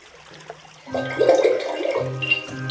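A paintbrush is swished and rinsed in a water jar during a purple and blue painting session, giving a short burst of close splashing and trickling that swells after a quiet start and then fades.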